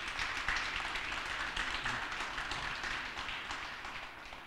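Audience at a Washington city announcement applauding Mayor Vincent C. Gray, a soft, sustained patter of many hands clapping in a room, steady throughout and fairly distant.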